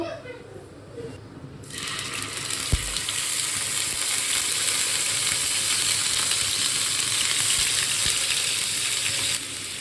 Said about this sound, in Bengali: এখানে যেরকম ইঁচড় আর আলুটা ভাজা হচ্ছে প্লাস সেদ্ধ হচ্ছে হোক